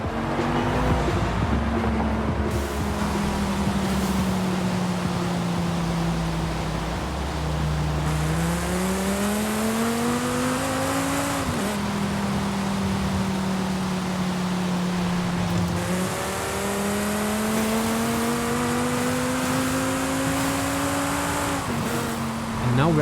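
A Dodge Viper engine in Forza Horizon 5 revs and pulls through the gears, its loud, steady roar rising in pitch and dropping at each shift across several long climbs.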